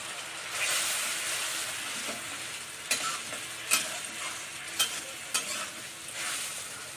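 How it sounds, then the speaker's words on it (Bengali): Spice paste frying with browned onions in a pan: a steady broad sizzle with a handful of sharp spoon-against-pan clinks spaced through it, close and fairly loud, no voices. "একটু ভেজে নিই।"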